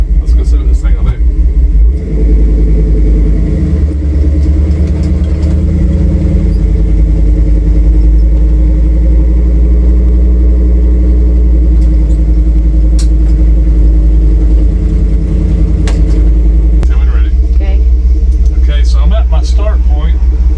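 A 1966 Ford Bronco engine idles close by, a deep, steady rumble with a low throb that holds evenly throughout.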